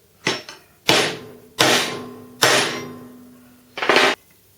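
A hammer strikes a centre punch into metal, marking a spot for drilling: five sharp, ringing metallic blows in an uneven rhythm, close and loud.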